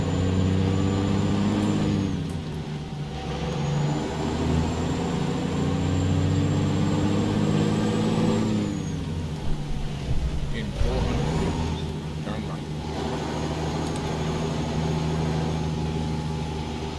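A heavy truck engine in American Truck Simulator drones low and steady while hauling a Reitnouer flatbed, its pitch rising and falling as gears shift, with hiss and air-brake-like bursts, under continuous talk.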